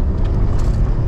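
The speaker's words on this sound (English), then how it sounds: "give it full throttle" A 377 bhp Lotus Carlton accelerating at full throttle, its engine a loud, deep, steady rumble heard from inside the car in one short burst.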